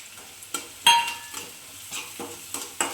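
Turmeric and salt cook in hot oil in a pan for kanda poha, with soft sizzling and a series of sharp metal spoon clinks and scrapes from stirring, close and clear.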